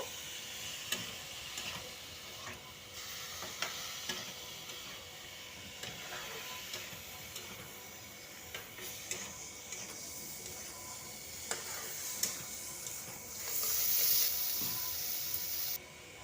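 Ground poppy seed paste sizzles and is stirred in a pan for a Bengali cauliflower curry, with soft continuous frying and intermittent scraping clicks of a spoon, growing briefly louder near the end.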